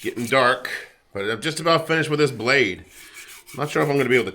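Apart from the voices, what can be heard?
No distinct noise like a dog, phone or traffic.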